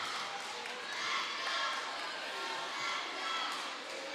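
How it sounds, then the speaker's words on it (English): Cheerleaders cheering on the Lady Bulldogs at a middle school girls basketball championship game, a steady wash of gym crowd noise and voices rising and falling over several seconds. "the Lady Bulldog cheerleaders still trying to cheer the team on"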